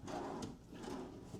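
Wooden nightstand drawers in a Gran Destino hotel room at Disney's Coronado Springs Resort slide open and shut, giving a continuous close rubbing, scraping sound with a soft knock near the middle.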